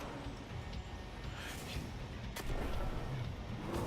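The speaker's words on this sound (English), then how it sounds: "A couple grenades." Explosive booms from grenades in the shooter game Destiny, during a Nightfall boss fight in the Abomination Heist, sounding as dull thumps and sharp bursts over constant battle rumble and gunfire, with one loud blast near the middle.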